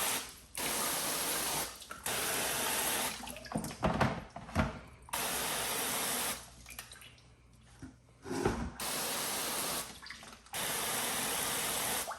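Water rinses a freshly washed car in long, loud spraying bursts that start and stop several times, with short quieter gaps between them and no voices.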